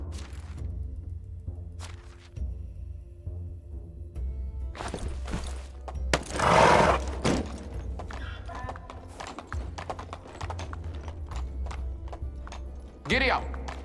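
Horse hooves clip-clop steadily while riding in the medieval game Medieval Dynasty, with a whinny and whooshing swishes over a low ambient drone, a voice speaking at points.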